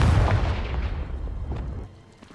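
Confringo, the blasting spell in Hogwarts Legacy, goes off as a deep, loud explosive boom that rumbles and decays over about two seconds, with a few fainter pops trailing after.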